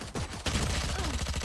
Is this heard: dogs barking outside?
no